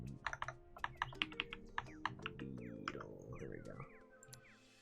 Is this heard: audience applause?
no